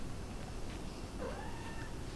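A house cat gives a single short meow, rising and then falling, against soft background noise in a home.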